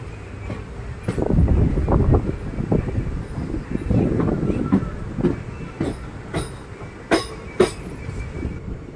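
A passenger train running along the line toward Mangaluru Central, with rhythmic wheel clatter and occasional sharp clicks and squeals over a steady rumble, heard up close from on board.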